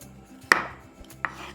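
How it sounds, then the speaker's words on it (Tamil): A knife cuts through boiled guava on a board, two crisp, close chopping taps about a second apart, alone in a quiet kitchen. "இதில் இருக்கக்கூடிய காம்பு பகுதி நுனி பகுதியை வெட்டி எடுத்துருங்க."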